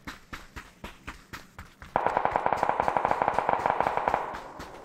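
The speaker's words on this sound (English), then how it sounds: "based on the amounts of shots fired, they must be really good at dodging bullets" Gunfire in PUBG: a few spaced single shots, then a dense, loud burst of rapid automatic fire that keeps rattling for several seconds before easing off.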